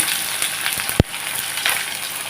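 Chopped onion from two whole onions dropped into hot oil for a Bengali kabuli chana curry, giving a steady close sizzle with one sharp thump as it goes in.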